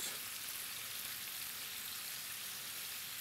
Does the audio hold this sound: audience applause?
no